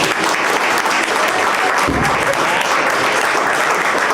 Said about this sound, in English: can we give one more round of applause to the people that came out tonight?